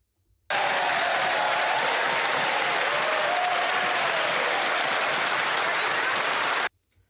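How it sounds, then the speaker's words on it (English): Liberal MPs in the House of Commons burst into sustained applause, a dense wash of clapping that starts abruptly, holds steady for about six seconds and then cuts off, with faint voices mixed in. "they all stand up and clap like trained seals"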